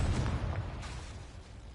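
A Confringo spell explodes in Hogwarts Legacy, a loud, deep blast that starts abruptly and rumbles down over a couple of seconds, with no talking.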